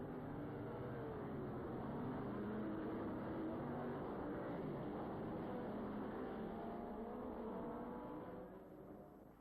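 A field of 1960s race cars, including Lola and 5.5-litre McLaren Elva Chevrolets, roars away from the start at the Guards International Trophy, a dense, steady wash of engine noise that fades slightly at the end.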